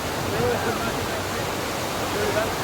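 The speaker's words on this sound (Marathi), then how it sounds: "आणि तो मोठा धबधबा" A large waterfall roars as a steady, dense wash of broadband noise on a nature day trip, continuous and fairly loud with no break, as if heard from a viewpoint nearby.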